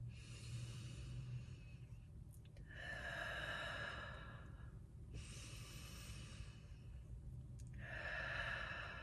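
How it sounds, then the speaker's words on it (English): Guided breathwork with a held breath followed by chest breathing: three long, close breathy inhales or exhales separated by quiet pauses, the airflow hissing clearly with a soft low hum underneath and no talking. "right after that breath hold, we're just going to go straight into chest breathing"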